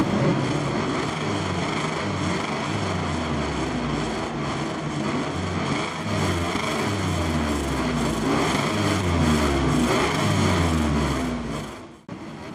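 Several MotoGP race bikes from a video game roar off the start at the Japanese Grand Prix at Motegi, a dense, loud wall of engine drone with rising and falling revs that runs steadily throughout.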